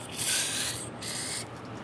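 A steady hiss of aerosol solvent sprayed into a brake caliper bracket on a 2005-2010 Chrysler 300, bright and close, running for over a second with a brief pause partway through.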